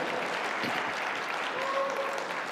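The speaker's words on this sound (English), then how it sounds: "Give him a round of applause, people." An audience claps steadily in a hall, a dense even patter of many hands that holds at a constant level throughout with no voices on top.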